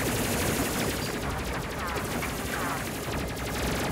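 Spaceship weapons in the Space Crew video game fire in continuous rapid bursts, a dense, loud barrage of shots holding steady throughout.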